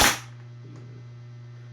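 A SCAR-H airsoft rifle fires a single BB, one sharp close snap that decays quickly into a low steady hum.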